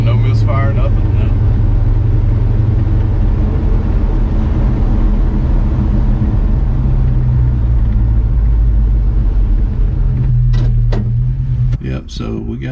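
Deep, steady rumble of an LS V8 street car engine on a drive, a constant low drone with a loud presence throughout, easing slightly near the end as someone talks over it.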